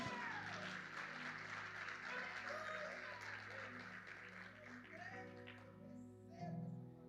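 A church congregation claps during a Portuguese-language sermon, the applause soft and distant beneath sustained music and a voice, fading slightly toward the end.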